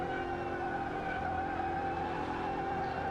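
Simulated car tires skidding and screeching in Car Mechanic Simulator 2018, a steady continuous squeal laid over a droning engine, loud and close with no break for the whole stretch.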